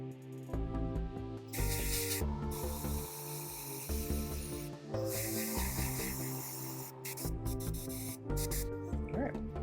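An airbrush sprays paint onto a BattleTech miniature in intermittent hissing bursts, heard over steady background music with strong tonal content throughout.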